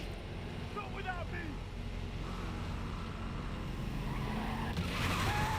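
Game car in 007 First Light racing along a runway, engine droning steadily with short tire skids and squeals, under background voices and effects.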